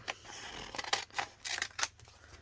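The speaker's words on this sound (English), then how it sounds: "I've just got my big scissors" Several quiet snips of large scissors cutting through an adhesive sheet, irregularly spaced and close by, with no talking.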